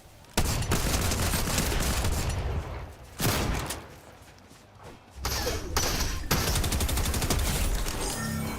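Sustained video game gunfire, rapid loud volleys of shots that cut out briefly twice and resume, with a quieter stretch of lighter fire in the middle.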